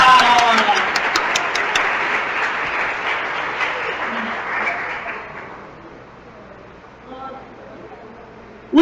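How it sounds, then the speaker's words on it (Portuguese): A church congregation gives loud, dense applause that gradually thins and fades over several seconds, leaving a quieter room with a few stray sounds before a sudden noise at the end. "E uma salva de palmas para a chuva."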